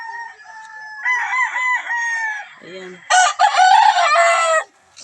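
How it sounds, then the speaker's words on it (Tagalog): Several farm chickens of various breeds cluck and crow nearby in a close series of calls, first softer clucks, then a louder burst of crowing; a voice speaks briefly among them. "madaming mga manok dito"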